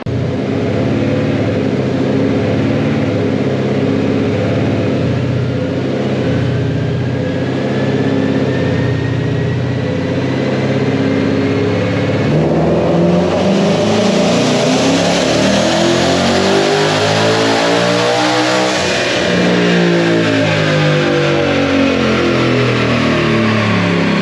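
A twin-turbo S550 Mustang GT roars on a dyno, engine revving loud and close as the pitch climbs steadily through a long pull, then sweeps and falls away near the end, with no voices over it.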